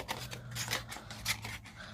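Scissors snip through paper for a shaker die project, a few quick, quiet cuts in succession close up with no one speaking.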